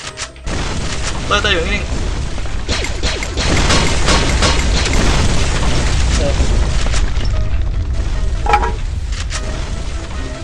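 Grenade blasts in the shooter game Free Fire, loud booming bursts scattered through a dense stream of gunfire and game noise, with people talking over it throughout.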